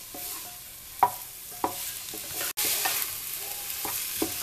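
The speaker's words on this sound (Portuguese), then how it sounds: "Aí nós vamos deixar refogar bem." Chopped onion sautés in a pan for a dobradinha sauce, giving a soft continuous sizzle with a few brief stirring clinks and scrapes, fairly quiet, without talk.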